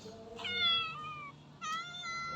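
A cat meows twice nearby, a drawn-out cry followed after a short gap by a second, shorter meow, over quiet background noise.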